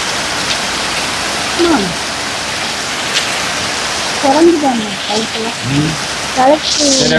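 Heavy rain pours down in Kozhikode, a dense, steady hiss throughout, with voices speaking briefly under the downpour.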